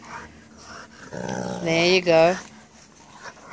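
A Rottweiler playing with bricks lets out a strained, wavering whine lasting about a second in the middle, with rough breathing around it. A person speaks briefly close by.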